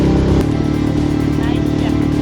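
A motor is run harder, giving a loud, close, steady engine drone that lasts about two seconds.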